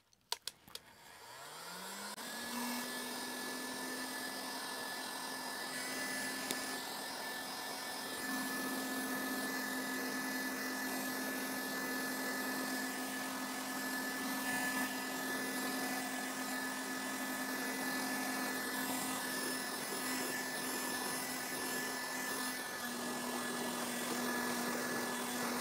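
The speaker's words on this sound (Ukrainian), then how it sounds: "Я розумію, що це не дуже безпечно робити це будівельним феном, тим паче на плівці, але я буду обережний на низьких температурах" Heat gun, a construction hair-dryer style tool, run on low temperature to dry a wet fabric car seat after cleaning: a steady, loud whirring blower hum with a fixed whine that starts up and holds unbroken with no talk.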